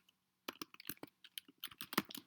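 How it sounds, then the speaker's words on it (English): Close, quiet typing on a computer keyboard comes in irregular bursts of crisp clicking keystrokes, with no talking. "So I'm just going to type this in here."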